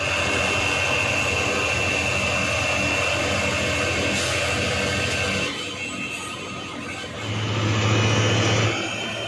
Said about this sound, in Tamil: வண்டி செம ஸ்பீடில் போயிட்டுருக்குங்க பைபாஸில்.